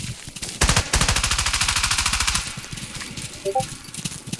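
Rapid automatic gunfire during a military building-breach drill, a loud sustained burst of evenly spaced shots that rattles for about two seconds before trailing into quieter background noise.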